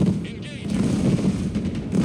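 Apache attack helicopter in the video game Broken Arrow firing in rapid, heavy bursts with booming impacts, loud and continuous, while someone talks over the barrage.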